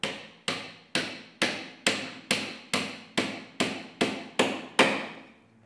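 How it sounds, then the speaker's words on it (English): A hammer drives a nail through one piece of wood into another, twelve loud close strikes in a steady, even rhythm, each ringing briefly before the next. "I'm now placing the other piece of wood onto the first one, right? And start nailing"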